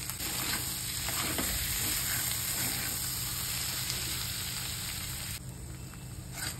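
Cooked mung beans are stirred in a pan for a bhaji, producing a steady low sizzle and soft scraping as they are mixed, close and moderately quiet, without speech.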